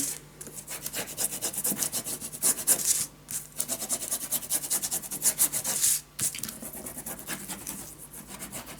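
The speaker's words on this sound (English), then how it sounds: "Burnish this down." Paper for a Halloween pop-up scrapbook album is burnished down by hand, giving close, steady scraping rubs in repeated strokes, with two brief pauses between the passes.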